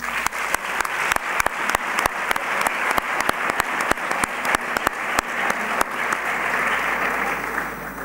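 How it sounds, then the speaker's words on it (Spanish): Hall applause at a sports gala honouring yoga and pilates instructors, a steady wash of clapping from a seated audience, with a few sharp, distinct claps standing out up close before it thins and fades near the end. "pedimos un fuerte aplauso"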